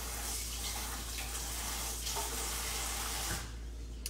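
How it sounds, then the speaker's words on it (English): A spoon rinsed under a running kitchen tap, a steady close hiss of water that stops abruptly near the end. "first I'm gonna rinse this spoon off."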